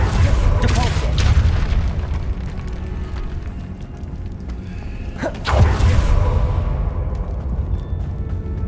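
Depulso spell blast from Hogwarts Legacy, a deep booming burst followed by a second heavy impact, with voices speaking around the blasts.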